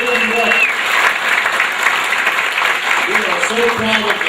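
Steady applause from a gathered audience at a political event, dense and continuous clapping throughout, with a voice speaking over it.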